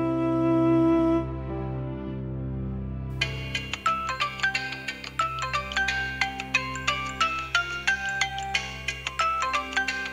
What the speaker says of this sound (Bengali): ধরো ফোন ধরো।